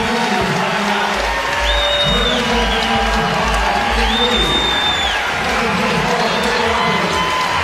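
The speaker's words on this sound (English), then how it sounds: "they receive the applause that they deserve" A basketball arena crowd roars and cheers steadily for the starting lineups of Arizona and Purdue at the Battle 4 Atlantis, a dense, loud wash of noise with whistle-like tones rising above it twice.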